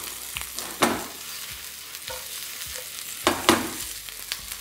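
Onions caramelizing in a frying pan for chicken stroganoff give off a steady soft sizzle, broken by a few sharper scraping stirs near the start and again near the end, with no voices.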